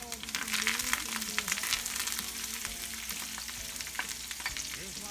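Chopped garlic and parsley sautéing in a pan for a mushroom stuffing, a close, lively crackling sizzle with scattered pops and a faint voice murmuring underneath.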